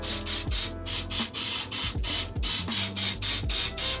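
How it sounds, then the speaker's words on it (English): Spray bottle misting the tops of houseplant leaves, with a steady run of short repeated bursts about every half second alongside faint mechanical clicks of the trigger. "So I'm just gonna spray the whole top"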